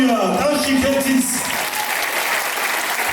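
A concert audience applauds and cheers loudly for a singer, dense continuous clapping with crowd noise, a voice speaking over the start.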